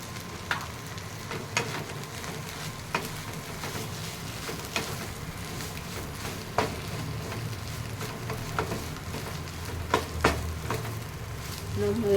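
Maggi noodles with masala stirred in a pan: a soft, steady sizzle broken by intermittent spoon clinks and scrapes against the pan, close and fairly quiet.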